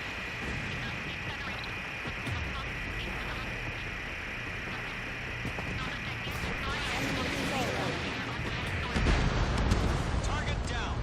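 Missile launches and explosions in the Ace Combat 7 flight combat video game, a steady dense rumble of jet and weapon noise with heavier booming blasts toward the end, under radio chatter.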